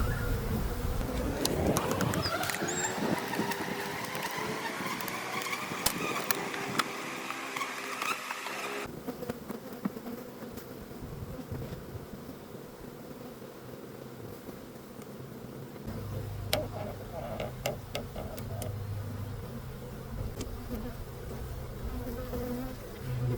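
Honey bees buzzing around an open beehive during a mid-spring hive inspection, a continuous close, swarming drone with shifting pitch and occasional soft bumps, no talking.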